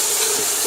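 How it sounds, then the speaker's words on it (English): Split pea sauce sizzles in a frying pan with peppers and onions after a splash of turkey-boiling water is added, giving a steady, close, bright hiss that runs unbroken throughout. "we're going to add a little bit of the water that boiled the turkey right into it, just a tad. Give it just a sizzle."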